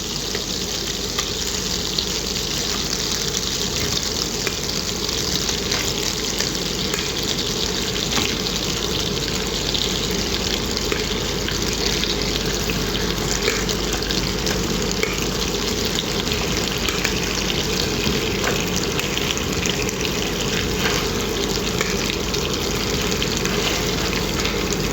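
Chicken pieces frying in melted butter in a pan, a steady, loud, continuous sizzle that holds evenly throughout with no talk over it.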